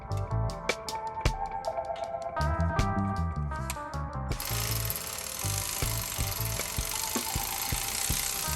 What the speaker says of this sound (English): Now just grab a wrench and make sure it's tight.